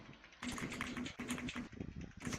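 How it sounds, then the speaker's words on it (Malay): Rapid clattering keystrokes on a keyboard, close and steady in quick bursts with short pauses, over a low background hum. "Aku dengar keyboard."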